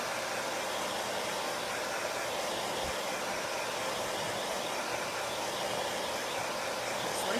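A handheld heat tool blows steadily to dry a chalk transfer on a beaded chalkboard tag, a constant loud whooshing roar that runs unbroken throughout with no voices.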